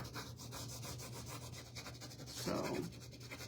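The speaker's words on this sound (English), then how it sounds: "I got me a little scraper. I love this thing for stencils." A small scraper rubs over a stencil laid on wood in soft, close scratchy strokes, with a brief louder scrape near the end and no one talking.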